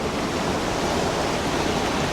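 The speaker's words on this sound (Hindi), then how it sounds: "पानी देख रहे होंगे कितना ज़्यादा इस साल बढ़ चुका है और काफ़ी प्यारे छोटे छोटे झरने भी बन रहे हैं" Small waterfalls swollen by heavy rain in a Garhwal hill forest give a continuous broad rush of water, close and even, with no voices over it.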